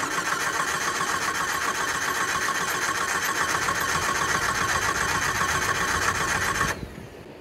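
Jeep XJ Cherokee engine cranking over on the starter, a continuous buzzing churn held steady for several seconds before it drops off abruptly near the end; loud and close, no speech.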